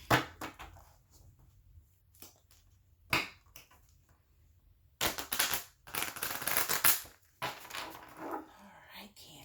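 Crisp riffling and flicking of tarot cards being shuffled in bursts, with soft tapping between and quiet whispered speech now and then.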